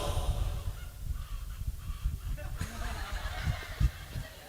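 A voice imitates a hen about to lay an egg, giving goose-like honking clucks in an uneven rhythm with a few sharper bursts near the end, loud and close.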